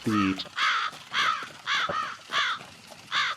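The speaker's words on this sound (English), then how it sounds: "Of crows that have clearly been disrupted off to your left." Crows caw repeatedly, six harsh calls in a steady rhythm, clear and fairly close, with a brief voice-like sound at the start.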